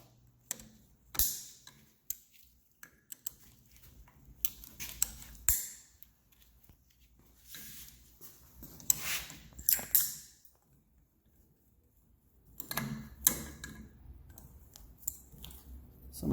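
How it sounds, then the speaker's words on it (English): Cutters snip safety wire off bolts on a Tatum sand rail's mid-board hub, giving scattered sharp clicks and snaps with quiet pauses between, close and fairly faint. "So all of these have to be cut off."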